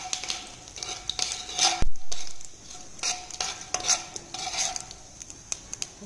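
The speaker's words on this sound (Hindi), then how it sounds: "हींग, अच्छे से पकने देते हैं इसे।" Mustard seeds and asafoetida fry in a pan for a simple tomato curry, with a steady soft sizzle broken by a few close stirring scrapes and clinks of a utensil against the pan.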